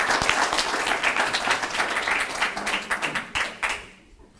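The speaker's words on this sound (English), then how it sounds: "Give him a round of applause." A live audience breaks into a round of applause, brisk rhythmic clapping close by that carries on steadily and then quickly dies away to near silence at the end.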